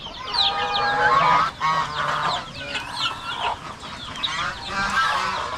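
Chickens and chicks clucking close by on a rural Philippine farm where cattle and carabao are raised, with busy overlapping clucks and chirps throughout and no talking.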